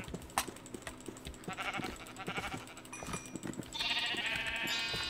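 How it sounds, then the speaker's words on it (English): Sheep in the Minecraft video game bleating repeatedly, short synthetic bleats scattered over a few seconds with a louder, longer bleat near the end, heard alone. "we've got enough wheat so we can breed our sheep"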